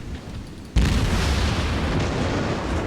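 Naval gunfire in World of Warships from the cruiser USS Phoenix: one sudden heavy boom, then a sustained loud rumbling roar that holds steady for the rest of the moment, with no voices.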